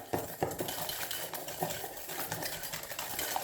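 Whole eggs, an extra egg yolk and sugar are beaten in a bowl, with a utensil scraping and tapping against the side in quick, uneven strokes, close and moderately quiet, with no talking.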